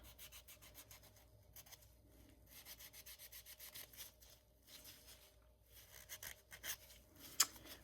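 A worn fingernail file rubs back and forth across a resin cross, making a soft, steady scratchy sanding sound in quick repeated strokes, close and fairly quiet, with one sharper tap near the end.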